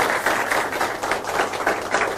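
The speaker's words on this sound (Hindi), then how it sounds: "तो आप सबके लिए भी ढेर सारी तालियां" A young studio audience on a talk show applauds with dense, steady clapping that holds at an even level throughout.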